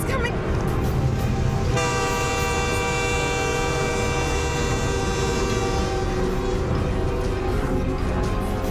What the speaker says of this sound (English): Oh my God, the train is coming.